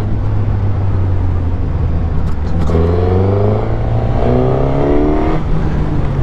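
A 2021 Suzuki GSX-S1000 full-power 152 hp motorcycle engine drones at a loud steady idle, then is blipped through several rising and falling revs close by.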